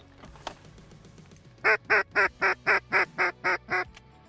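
A rapid run of about ten loud, evenly spaced duck quacks sounds at close range during a duck hunt, following a single dull thump, with no talking.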